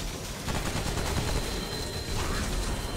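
Rapid, dense bursts of gunfire from the player's weapons during an ice conjurer boss fight in the game Subject 2923, loud and continuous over a rumbling game background.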